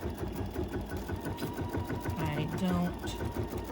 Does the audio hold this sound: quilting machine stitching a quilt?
yes